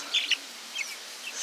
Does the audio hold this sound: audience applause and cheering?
no